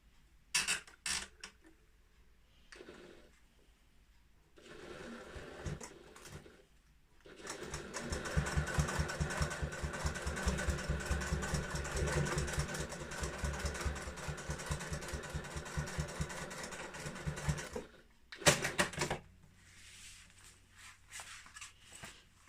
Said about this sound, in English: of your lining, and we're just going to sew that together.